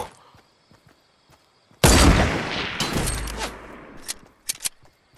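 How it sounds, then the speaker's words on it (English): Tommy gun fire in the Fortnite battle royale video game bursts out in a loud, dense rattle of rapid shots lasting a couple of seconds, followed by scattered single pops, close-up and dominant. "I love the Tommy gun."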